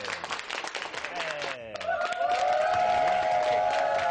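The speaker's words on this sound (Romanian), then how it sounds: "Aplauze, prieteni!" Applause from a live audience during a Romanian morning TV show featuring a performer, clapping steady and full under an announcer's voice, then tonal music swells in and carries on over the crowd.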